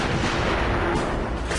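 A single heavy test shot from an M777 howitzer, a loud booming roar that fills the whole clip and rumbles on without fading.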